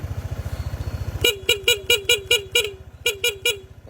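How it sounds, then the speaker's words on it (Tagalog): Dual horn setup fitted on a motorcycle honks in a rapid series of short, loud, bright beeps, about ten blasts in quick rhythm over a steady idling engine pulse. "Tapos sa busina, maglagay po tayo ng dual horn setup."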